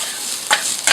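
Garlic, peppers and onions frying in a pan, a close, steady sizzle with a brief scrape or stir just past the middle and another at the end, no voices.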